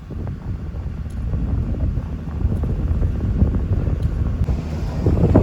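Strong wind gusts at a river bridge construction site near Mirpur, Azad Kashmir, buffeting the microphone with a loud, continuous roar that swells toward the end, with no speech.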